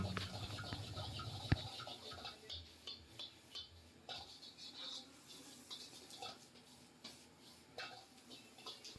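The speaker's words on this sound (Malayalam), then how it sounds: "അതിനുശേഷം കാബേജ്, ക്യാപ്സിക്കം, ക്യാരറ്റ്, ഫ്രൈ ചെയ്ത് വെച്ചിരിക്കുന്ന ചിക്കനും കൂടെ ഇട്ട് നന്നായി മിക്സ് ചെയ്യുക" A spatula stirs cabbage, capsicum, carrot and fried chicken in a pan for restaurant-style chicken noodles, a steady run of soft scraping and tossing strokes with faint sizzling, quiet and continuous.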